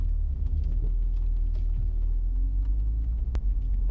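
A 2011 Cadillac CTS-V's engine runs at a steady idle, a deep continuous rumble close to the car with a faint click near the end.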